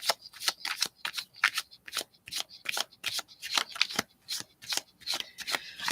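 A deck of tarot cards is shuffled up close, quick repeated riffling bursts in an irregular rhythm, soft and crisp, with no talk.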